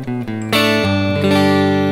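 Fender Telecaster Mexico Classic 50 single-coil guitar on a clean Yamaha THR-10 tone, plucking a few notes and then strumming sustained chords, close and alone.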